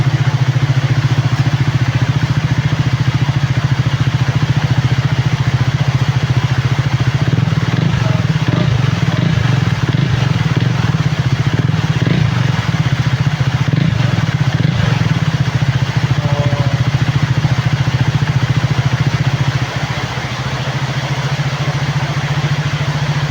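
A KTM Duke 390 single-cylinder motorcycle, after a top-end overhaul for oil burning and low oil pressure, idles steadily after a cold start. The loud, close engine hum stays even and continuous, with a slight dip near the end.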